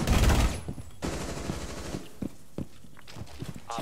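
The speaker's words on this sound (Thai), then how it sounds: "ยิงไม่โดน" Gunfire in the tactical shooter Rainbow Six Siege: a loud burst at the start, then a rattling volley, followed by scattered sharp single shots and footstep-like thuds, with no talking.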